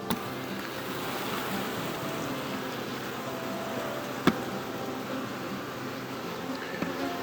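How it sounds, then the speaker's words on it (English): A soft, steady hum of many honeybees buzzing nearby as they are shaken off a hive frame, with a sharp knock partway through and a few faint clicks. "I'm just going to shake these bees off so they can stay with Hive 6."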